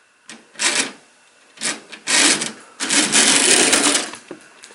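A model train locomotive motor runs at half power on a test, a whirring buzz that starts and stops in several bursts of varying length, close and fairly loud with quiet gaps between.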